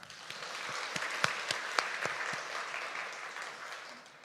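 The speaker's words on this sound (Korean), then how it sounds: "함께 영광 박수를 올려줍시다." A church congregation applauds together in a soft, steady round of clapping, with a few sharper individual claps standing out, fading gently toward the end.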